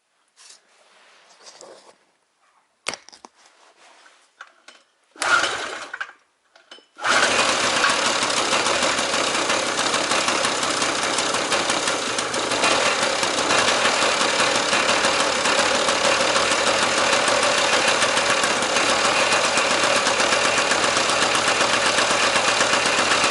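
A generator engine cranks in freezing, below-zero weather with a few short false starts, then catches and settles into a steady, loud, continuous idle with a knocking mechanical rattle.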